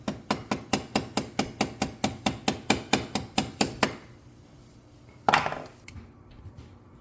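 A hammer taps a Swiss Army knife scissor spring into place against a hard surface: about seventeen quick, even, close metallic-wooden strikes in a steady rhythm, then a pause and one final louder blow.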